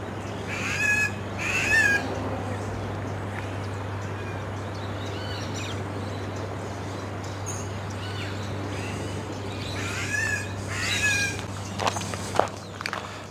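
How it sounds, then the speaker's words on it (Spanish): Birds call intermittently in an urban riverside area of Puerto Vallarta, a few short chirping bursts near the start and again near the end over a steady low hum, with footsteps faintly in between. "Va a quedar callado para ver si lo van a escuchar a las aves que cantan."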